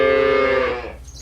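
A single cow gives one loud, close moo on a farm, a deep drawn-out call that tails off and fades within about a second, with no people speaking.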